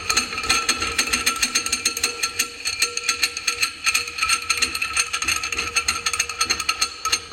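A ratchet runs a nut down on the yoke of a clutch tool during a Polaris Sportsman EPI clutch kit install, giving a fast, steady series of sharp metallic clicks, close and continuous throughout.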